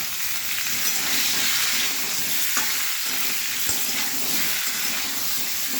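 Potatoes fry in oil in a pan, a steady dense sizzle with a few scraping stirs of a spoon cutting through, close and continuous without speech.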